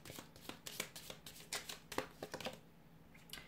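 Angel Answers Oracle cards are shuffled by hand in quick, quiet bursts of riffling and soft slaps, close up, with brief pauses between them.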